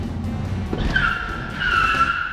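A Plymouth in a braking 360 spin on the parking lot challenge of the PS1 game Driver, tires screeching in a rising, sustained squeal over engine rumble, loud and close.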